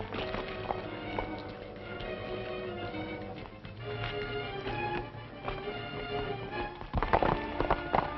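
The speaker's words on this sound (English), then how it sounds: "Come on, get on your horse." Hooves clip-clop steadily as horses move off together, with continuous rhythmic thudding and a louder clatter near the end.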